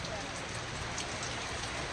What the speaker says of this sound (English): Y'all hear the rain? It's coming down.